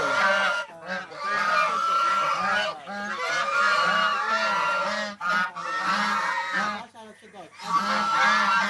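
A flock of geese, adults and goslings, honking loudly and repeatedly at close range in a dense overlapping chorus, with brief pauses between bursts.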